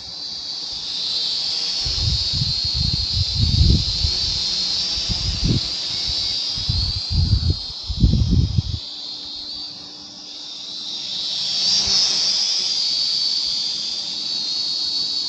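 A SYMA X440 mini RC quadcopter drone taking off, its tiny motors giving a steady high-pitched whine throughout, with low thumps and knocks in the first half and the whine swelling later.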